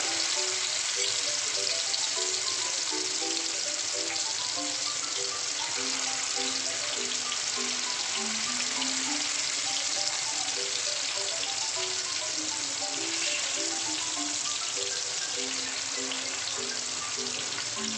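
Chicken pieces fry on a low flame in hot oil for chicken bhuna masala, giving a steady, even hiss over quiet background music, with no voices.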